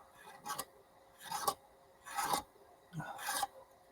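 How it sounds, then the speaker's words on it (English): Hobby knife blade scraping a model kit part, four short, close rasping strokes at a steady pace, each lasting about half a second with quiet gaps between. "The blade is facing away from where you're cutting, and you're actually just scraping it"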